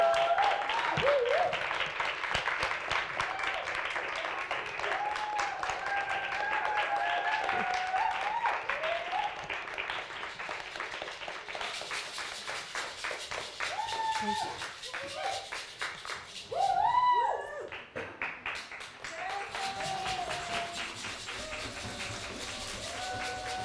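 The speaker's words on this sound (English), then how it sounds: "Please give another round of applause." Audience applause after a community theater performance, a steady spread of clapping running for many seconds, partly under people talking, with a brief louder swell near the end.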